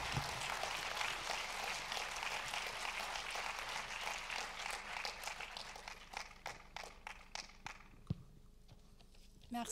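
Applause at a prize ceremony, a dense crowd clapping that thins to a scattering of separate claps and fades toward the end, fairly faint and distant.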